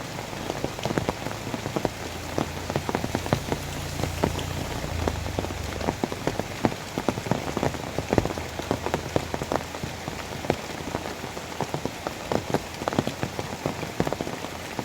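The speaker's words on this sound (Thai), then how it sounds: "ฝนตกหนักแล้ว" Heavy rain pours down in a forest, a dense steady patter of drops striking leaves and surfaces with frequent sharp close impacts over a low rumble, continuous and loud throughout.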